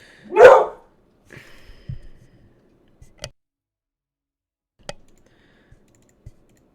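A dog lets out one loud, sharp bark near the start. A few soft clicks and light knocks follow across an otherwise quiet room.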